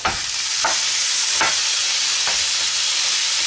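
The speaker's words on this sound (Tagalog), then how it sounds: "So, pwede na natin igisa yung pork." Pork sautéed with softened onion and garlic in a hot pan gives a loud, continuous sizzle, cut by several spatula scrapes at roughly even intervals.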